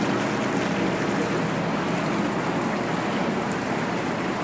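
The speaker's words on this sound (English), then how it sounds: "Sounds kind of like a shop vac when it's running, but it's not all that loud." Steady whooshing hum of an inflatable Lay Z Spa Paris hot tub pump running, like a shop vac but not very loud, continuous and close throughout with no talking.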